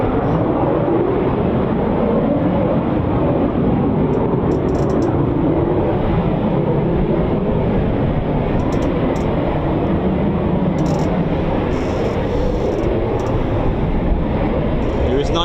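Loud, steady rumbling roar of a military jet taxiing at RAF Coningsby, constant and close throughout with no break, while radio-style voices come and go.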